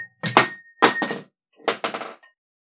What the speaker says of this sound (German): ich habe gerade auch meinen Arm etwas zu stark rotiert und dabei mein Glas runtergeschmissen